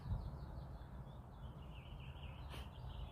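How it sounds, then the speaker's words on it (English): Birds chirp outside on a quiet day, with thin, faint high calls repeating over a soft, steady outdoor hush. "Literally all I hear are the birds chirping."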